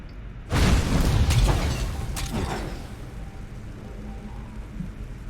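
Fire traps in Skyrim explode with one sudden loud burst, followed by a sustained crackling, hissing roar that slowly fades over several seconds.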